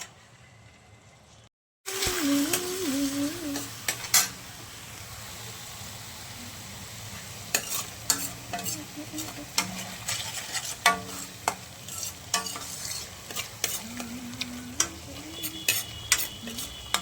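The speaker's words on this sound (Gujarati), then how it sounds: "ટોમેટો પ્યુરી એડ કરી નાખી છે. હવે એને શેકાવા દઈશું." Tomato puree sautés in a pan, a steady sizzle with scattered clicks and scrapes from stirring, beginning after a brief quiet stretch.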